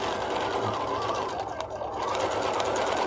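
A home sewing machine runs steadily at speed, stitching with a fast even whirr and rapid needle clatter, close and continuous with no talking.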